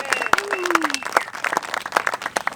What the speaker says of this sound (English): Let's give a round of applause for these guys.